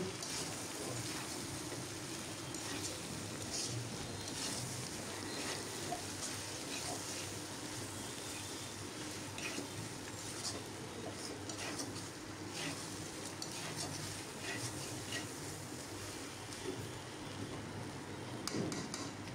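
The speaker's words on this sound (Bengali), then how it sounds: "এখন আমি এগুলো আবার নাড়াচাড়া করে রান্না করতে থাকবো, ভাজতে থাকবো আর কি।" Beef tripe fries with garam masala and cumin powder in a pan over a very low flame while being stirred, giving a steady, dense sizzle that runs unbroken throughout.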